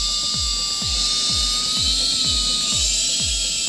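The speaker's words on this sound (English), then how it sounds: "And then there's 4 screws holding the duct, and we're just going to loosen those up." Power tool loosening screws on a Porsche Macan intake duct: a steady high whine with repeated rhythmic ratcheting pulses, close and continuous.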